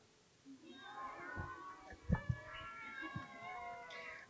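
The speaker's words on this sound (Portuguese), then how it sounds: "Ele entrou na casa, e se esticou todo no tapete, deu um bocejo enorme e começou a miar." A cat meows repeatedly indoors, a few drawn-out mews rising over a soft background, with one louder pair near the middle.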